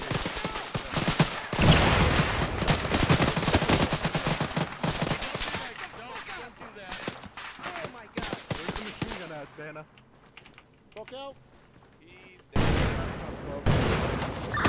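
Heavy gunfire during a headquarters assault in ARMA 3, with sustained machine-gun bursts and scattered shots loud at the start, thinning into sparser distant fire, then returning in a sharp loud burst; people talk over the shooting.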